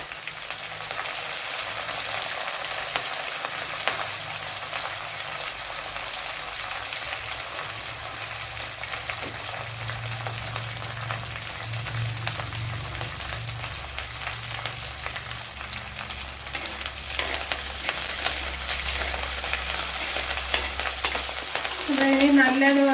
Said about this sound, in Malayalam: ഇനി നല്ലതുപോലെ വെളുത്തുള്ളി ഇഞ്ചിയൊക്കെ വഴണ്ട് വരണം